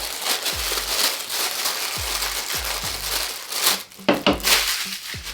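Continuous crinkly rustling and crackling of plastic packaging being handled up close, with soft thumps and a louder burst of crumpling toward the end.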